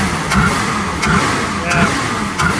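A 1965 Ford Mustang engine being restored runs unevenly at low revs, with rhythmic surges roughly every second under a steady mechanical drone, close and loud, as people talk over it.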